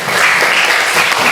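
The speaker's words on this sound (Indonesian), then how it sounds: "Tepuk tangan dulu." A short, full burst of group clapping in a Christian religious education class, close and continuous for about a second and a half with no talking over it.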